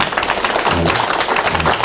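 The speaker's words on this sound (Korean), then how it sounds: "우리 새해를 허락하신 하나님께 감사와 영광의 박수 올려드리겠습니다" A church congregation at a New Year dawn prayer service claps together in a loud, dense burst of applause, with a few voices faintly mixed in.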